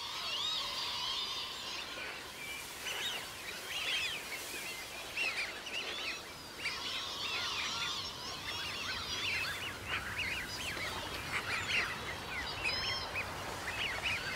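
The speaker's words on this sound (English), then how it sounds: "Groups of lapwings and Eurasian widgeons have gathered." A winter flock of lapwings and Eurasian wigeons gathers in open lowlands. Many overlapping calls and whistles keep up a soft, steady chatter that sounds faint and fairly distant throughout.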